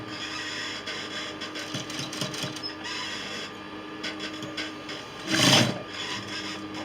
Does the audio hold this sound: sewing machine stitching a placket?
yes